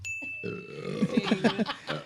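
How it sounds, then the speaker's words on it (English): A burp is let out close into a microphone, rising into a quick run of deep, gurgling pulses that sounds loud and near, with faint tones in the background. "They love when you burp into the microphone."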